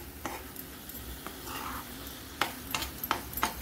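Carrot sandesh mixture being stirred in a pan, soft scraping and light clinking of a spoon against the pan in irregular strokes, quiet and close, with a faint sizzle beneath.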